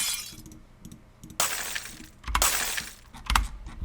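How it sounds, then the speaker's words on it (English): A glass-shattering sound effect used in a music remix bursts out in sharp crashes, first at about one and a half seconds and again around two and a half, trailing into small tinkling shards and a final hit, loud and close. "right after that, I switch to this glass break noise"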